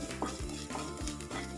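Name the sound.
stirring onions and chilies in a pan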